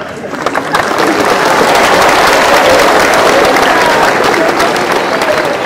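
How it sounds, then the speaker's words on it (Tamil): An audience at a school event breaks into loud, dense applause for a teacher, a steady roar of many hands clapping that swells in and holds close and full throughout. "அவரை இன்ட்ரோடியூஸ் பண்ணும் போதே என்ன ஒரு கரகோஷம் வந்துச்சு, கவனிச்சீங்களா?"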